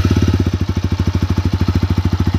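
A 2024 TVS Apache RTR 160 4V motorcycle exhaust idles steadily up close, a low, even burble of rapid regular pulses with no voices.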